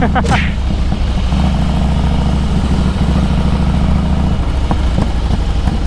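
A Harley-Davidson Heritage 1700cc motorcycle engine gives a steady, loud, low rumble from close by, holding an even throb throughout.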